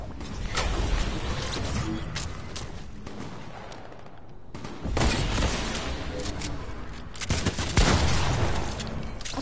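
Video game gunfire from a teammate, dense bursts of shots and booms rattling continuously across the clip, loud and close, with brief lulls around the middle before firing resumes heavily.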